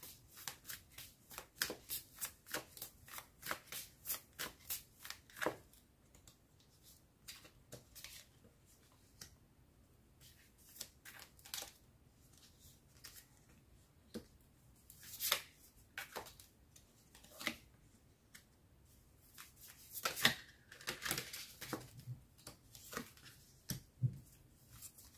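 Tarot cards being shuffled by hand, with quick, crisp riffling bursts in clusters and short pauses between them, close and fairly quiet in a still room.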